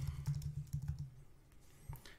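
Quick, close keystrokes on a computer keyboard while entering an address, a short burst of clicky taps that trails off with a few last presses.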